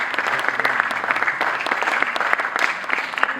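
Audience applause fills the room at a ghazal album launch, a dense, steady patter of many hands clapping at moderate distance throughout, with no talk over it.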